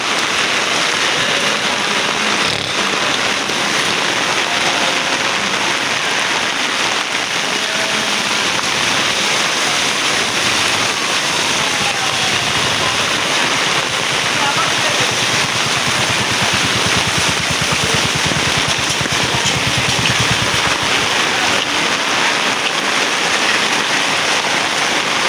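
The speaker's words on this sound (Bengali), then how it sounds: "প্রচুর বৃষ্টি হচ্ছে" Heavy rain pours down on a city street in a dense, unbroken hiss that stays loud and even for the whole stretch, with no voices.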